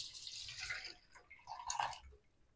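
Plain water poured from a glass into a mixer jar for spicy panipuri water, a splashing trickle that swells twice over a couple of seconds, close and fairly quiet with no talk.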